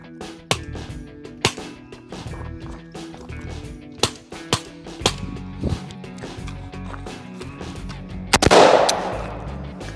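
A Mitchell Defense rifle being fired during a torture test, sharp loud shots at irregular intervals with smaller clicks and knocks between them, ending in a close double report followed by a hissing burst.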